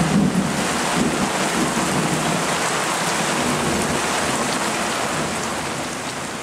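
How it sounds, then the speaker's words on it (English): Heavy rain roars around a sailboat in a squall, a dense, loud, unbroken wash with low rumbling underneath from distant thunder. "You can hear that thunder in the background,"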